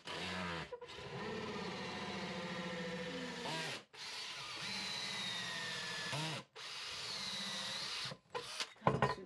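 A power drill drives a screw during an RV plumbing job, whining in three sustained bursts separated by short pauses, followed by brief clattering handling noises, fairly quiet overall.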